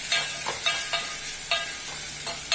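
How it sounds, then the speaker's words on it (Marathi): Salted prawns frying in a pan with onions, a steady, bright sizzle broken by the scrape of stirring several times, with no talk over it. "आता हांव तातून घालता सुंगटां. सुंगटां हांवें मीठ लावून दवरलेले आसतले सो आमी मातशें फ्राय करून घेवया."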